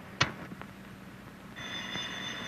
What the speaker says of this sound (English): Go on, answer the phone.